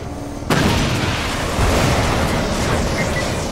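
Grenade blasts from the Killzone shooter game: a sudden loud boom bursts in after half a second of quieter rumble, followed by sustained roaring, crackling debris and a second swell of explosive noise.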